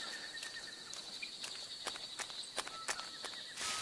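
Footsteps in Metal Gear Solid 3: Snake Eater, a steady series of light, crisp steps at a walking pace, close and clear over a bed of jungle ambience with a few bird-like chirps.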